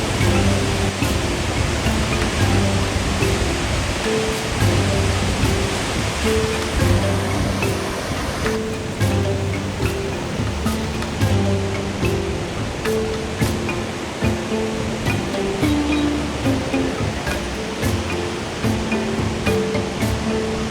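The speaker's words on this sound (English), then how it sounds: "It's just a waterfall." The waterfall at Devil's Pool roars as a steady, broad rushing wash, loud and continuous for the whole stretch with no voices.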